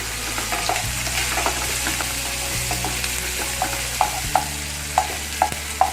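Bell peppers and baby corn sautéing in a pan, a continuous close sizzle under a low steady hum, punctuated by a series of light clinks and taps from a stirring utensil that grow more frequent toward the end.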